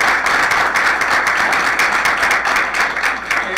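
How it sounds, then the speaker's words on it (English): An audience at a city State of the City address in Glens Falls applauds, a dense and steady burst of clapping from a crowded room that holds loud and even throughout. "I appreciate the applause"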